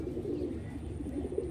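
A Bagha pigeon, a ring-eyed female, coos softly in a low, rolling murmur heard up close, with no talking over it.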